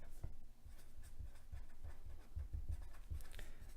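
Marker or chalk strokes scratching across a classroom board, a run of short rhythmic writing sounds close by with no talking.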